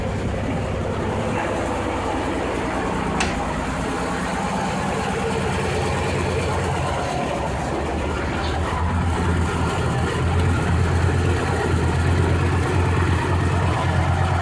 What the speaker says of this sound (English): that growling sound you hear is the throwout bearing